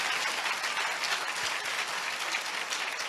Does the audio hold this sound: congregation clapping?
yes